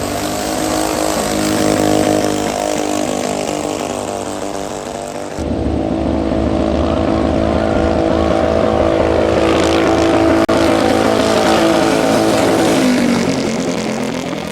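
A junior dragster and a pro stock go-kart launch side by side in a final elimination at Lapeer International Dragway. Their engines give a loud, continuous roar that shifts in tone partway through and holds at full volume.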